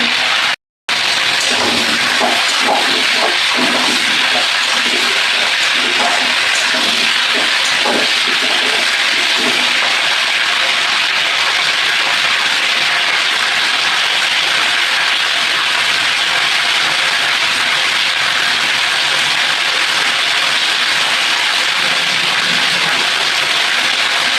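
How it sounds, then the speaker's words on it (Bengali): Vegetables sizzle in a frying pan during traditional Bengali home cooking: a steady, loud, hissing crackle that runs without a break, with scattered pops and stirring clicks in the first several seconds and no voices. "আমি সবজিটা ভাজা ভাজা করছি।"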